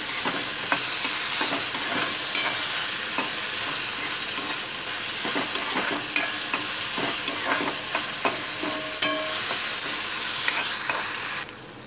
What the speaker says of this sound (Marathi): आपला कांदा टोमॅटो चांगला परतून झालाय।